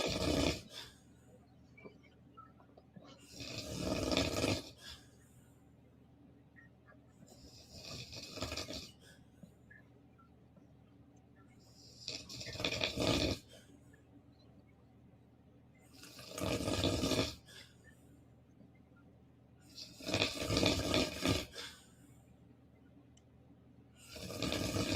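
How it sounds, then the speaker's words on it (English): A man snoring with sleep apnea, loud rasping bursts roughly every four to five seconds, each lasting about a second, separated by quieter breathing gaps, close and alone with no talk. "this damn snoring right here"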